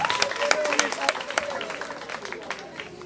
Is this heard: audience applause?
yes